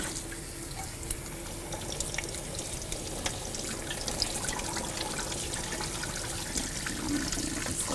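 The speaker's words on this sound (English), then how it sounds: "I'm going to bring them over here and rinse them off" Tap water runs steadily into a sink as beans for a three bean chili are rinsed, a constant close splashing rush with small irregular clinks and drips and no voices.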